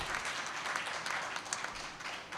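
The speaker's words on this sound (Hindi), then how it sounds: "आपकी तालियां बता रही हैं कि आपका कितना महबूब शायर है" Audience applause at an Urdu mushaira poetry gathering in Ujjain, a continuous wash of many hands clapping at moderate distance, fairly even and sustained for the whole short stretch.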